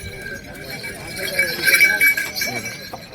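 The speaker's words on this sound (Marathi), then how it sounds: "सुंदर बैलजोडी आहे" Pairs of bulls' hooves clop on the ground amid a busy outdoor crowd murmur at a cattle market in Vaijapur, with a voice talking nearby.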